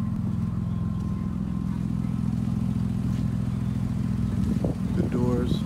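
A 2001 Toyota Highlander idles steadily with an exhaust leak, giving a continuous low rumble with a faint ticking pulse, and a brief clatter and whine come near the end.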